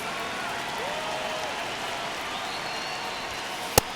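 Stadium crowd in MLB The Show 25, a Chicago Cubs versus White Sox game in the ninth inning, a steady roar and murmur of many fans with a brief sharp crack near the end.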